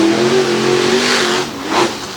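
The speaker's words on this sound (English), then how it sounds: "What a launch for the black and green Ford." Black and green Ford monster truck launching off the line at a drag race, a loud engine roar that surges briefly, dips, then rises again near the end.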